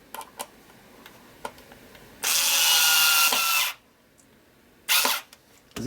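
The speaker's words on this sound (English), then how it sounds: "Electric screwdriver." A cordless electric screwdriver whirs in two bursts, one long and one short, close by and fairly loud, between a few light taps and clicks.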